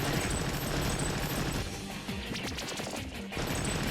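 Barrage gunfire attack in the video game Digital Devil Saga 2, a dense, loud rattle of rapid shots and crashing impacts running continuously with brief dips, and no talk over it.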